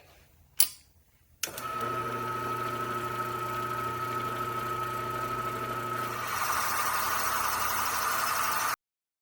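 A boring machine cutting the cylinder of a CR125 dirt bike for a new sleeve, a steady close mechanical hum with a constant tone that grows slightly harsher near the end, after a brief clunk at the start.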